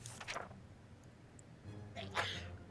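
Two quick sneezes in the video game 60 Seconds! Reatomized, sharp bursts at the start and near the end over a quiet background, faint and unaccompanied by speech.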